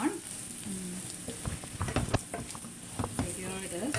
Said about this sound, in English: I'm going to put the pepper powder and just give it a stir